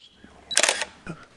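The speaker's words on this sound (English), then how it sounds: "The 5D's shutter is quite loud." A Canon 5D camera fires its loud shutter in a studio: one sharp, close mechanical clack, then a shorter, quieter click a moment later.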